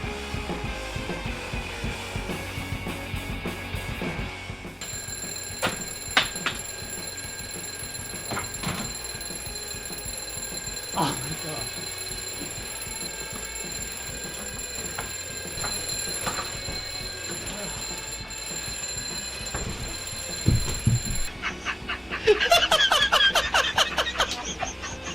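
A novelty alarm clock rings with a steady electronic tone that runs for most of the span, sharp clicks and thumps scattered through it, then bursts of laughter near the end.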